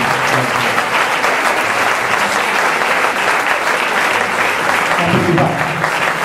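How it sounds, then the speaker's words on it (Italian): Loud, sustained applause from a large conference audience fills the space, clapping evenly throughout with some murmured voices mixed in. "Facciamo l'applauso ai professori, gli diciamo grazie."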